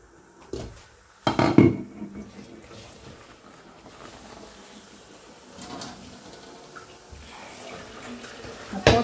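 Water is poured out of a pot of potato fufu in a home kitchen, giving a couple of short splashing bursts followed by quieter trickling and clatter.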